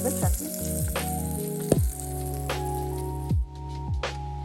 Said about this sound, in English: We are adding the tempering to the chutney.